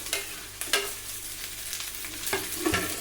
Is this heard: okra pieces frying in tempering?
yes